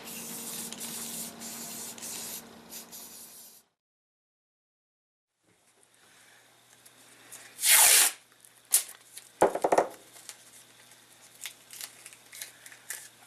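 An aerosol can sprays paint onto a King Kong sculpture in a yard, hissing in short bursts separated by a silent gap, with one loud sharp spray burst and lighter rattles.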